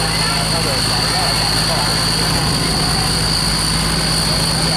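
A tugboat engine runs steadily at close range, a loud, constant mechanical drone with a persistent hum and no change in pace over several seconds.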